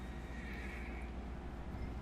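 A horse in Red Dead Redemption 2 gives a whinny over a low, steady background rumble, the neigh fairly faint and set back rather than close.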